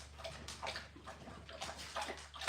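A dog drinking from a bowl of water, steady lapping and sloshing with small splashes, close and moderately loud over a low background hum.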